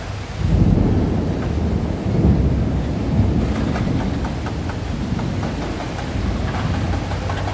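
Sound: thunder during a rainstorm

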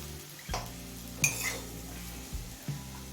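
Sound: vegetables frying and being stirred in a pan

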